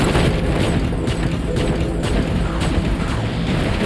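Robot explosion in the mech combat game War Robots, a loud, dense rumbling blast with crashing debris and scattered pops, sustained and close throughout.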